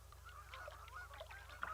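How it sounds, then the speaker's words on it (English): Geese flying north over a still lake in Alaska honk in a loose overlapping chorus, several calls close together and moderately distant, above a low steady background hum. "The sound of geese heading north"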